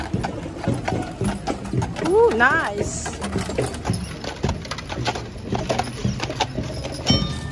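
Horse hooves clopping along a firefighters' parade route, a soft, steady clip-clop mixed into crowd noise and nearby talking.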